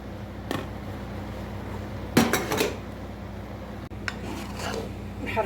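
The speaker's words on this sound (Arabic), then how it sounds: "نحركو البنات كلشي مزيان هكذا." A utensil scrapes and clanks against a pot while koshari lentils and chickpeas are stirred, a few short metallic knocks and rubbing strokes close up over a low steady background hum.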